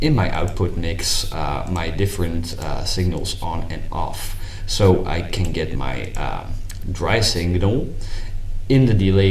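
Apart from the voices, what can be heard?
None of the usual background noises is heard.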